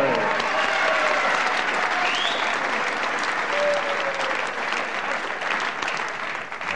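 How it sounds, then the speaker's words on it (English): A wrestling crowd claps loudly and continuously at ringside, a dense wash of applause filling the arena with faint tonal whistles or calls rising above it. "Everybody clapping here"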